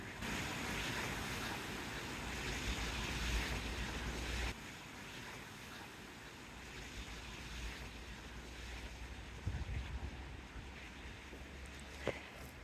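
Steady rushing water of Bushkill Creek in Pennsylvania flows continuously in autumn, mixed with wind buffeting the microphone, with a few small knocks near the end.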